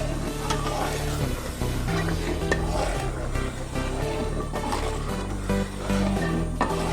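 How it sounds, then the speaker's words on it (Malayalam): Lentil payasam (parippu pradhaman) stirred steadily in a pan, continuous scraping and swishing with a low bubbling simmer underneath, close and fairly loud, no talking. "ഇളക്കി നന്നായിട്ട് യോജിപ്പിക്കുക."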